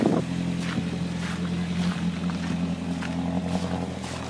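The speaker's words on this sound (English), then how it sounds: "that is just the nicest sounding Avenger engine I've heard today" A Hillman Avenger engine, started after 24 years, runs at an even idle, a low droning hum with a faint rumbling throb, close by and alone.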